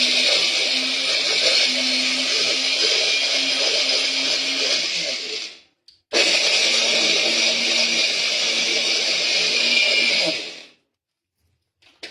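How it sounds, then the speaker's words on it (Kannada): A kitchen mixer grinder whirs loudly and steadily, grinding chana dal into a fine powder, in two long bursts separated by a short pause, then stops. "ಮಿಕ್ಸಿ ಜಾರಿಗೆ ಹಾಕಿ ನುಣ್ಣಗೆ ಪುಡಿ ಮಾಡ್ಕೊಳ್ಳೋಣ."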